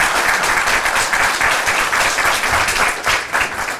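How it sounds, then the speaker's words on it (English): Loud, dense audience applause for a panel at an election-security event, sustained clapping from a full room with no voices over it. "Could we get a round of applause for our final panel"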